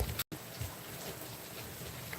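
Heavy rain falls outdoors in a storm, a steady, close hiss of drops on surfaces with a brief dropout near the start, otherwise continuous and fairly quiet, with no voices.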